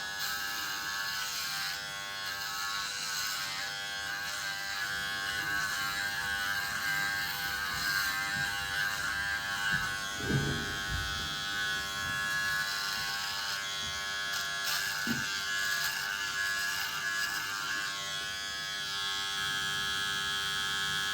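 A steady Brio Beardscape V1+ electric foil shaver buzz runs throughout with a strong harmonic hum, briefly roughening twice as it cuts through beard hair.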